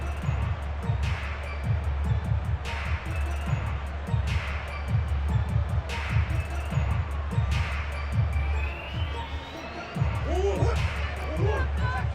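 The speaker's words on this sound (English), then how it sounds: "And this crowd into it early." A stadium crowd in Madden NFL 22 keeps up a steady, low roar beneath close play-by-play commentary, with a few faint swells of cheering.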